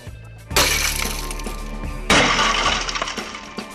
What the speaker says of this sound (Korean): 잠금장치 부분에 큰 충격을 받으면 강화유리가 깨지면서 금고가 자동으로 잠기는 것이다